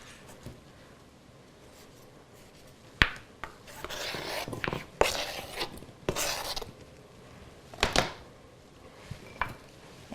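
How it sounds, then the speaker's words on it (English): A knife cuts tomatoes on a cutting board while ground beef browns for an Indian-style beef and peas dish, giving a few separate close chopping thuds and scraping rasps over a quiet kitchen background. "You cut your tomatoes."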